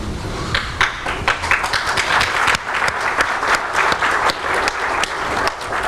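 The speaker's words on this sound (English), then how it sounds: "an applause for this" Audience applause at a faith-and-science panel event, a steady dense clapping from a sizeable crowd lasting throughout, with sharper individual claps standing out near and far.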